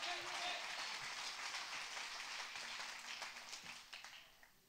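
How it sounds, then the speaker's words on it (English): A church congregation claps together during a sermon, a dense, steady wash of hands that fills the room and fades slightly toward the end, with voices mixed in underneath. "You ought to clap in here"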